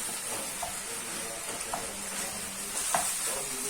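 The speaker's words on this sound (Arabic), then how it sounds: "نديله تقليبه كده زي ما انتم شايفين" Rice stirred through hot ghee in a pot, giving a steady soft sizzle with a few scraping spoon strokes, close and moderately quiet, no talk over it.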